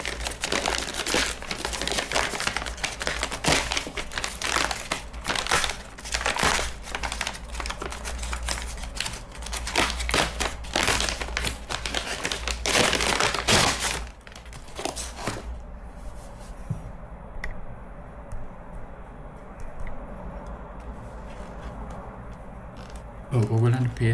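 A packaged organic rice lunch meal pack is unwrapped up close, with loud crinkling and crackling of packaging for about fourteen seconds before it quiets to softer handling noises.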